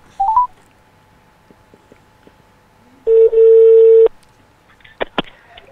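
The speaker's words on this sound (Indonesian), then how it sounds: "Kita coba telepon." An outgoing phone call begins with a few quick keypad beeps, then a short pause, then a longer loud tone about a second long, followed by a couple of faint clicks, all crisp and close.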